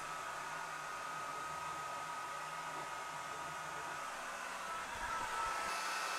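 A Swiitol C18 Pro 18W laser engraver hums and whirs steadily while running a second engraving pass at the same power and speed, with a constant fan-like drone and faint low mechanical pulses, and nobody speaking.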